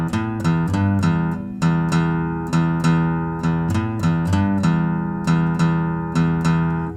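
A plucked guitar melody on a single string plays in a steady repeating pattern, notes ringing into each other without muted stops, close and alone.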